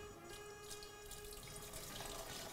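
Vegetable stock is poured into a pot for tomato soup, making a steady, close splashing stream of liquid that runs on without pause and with no voices.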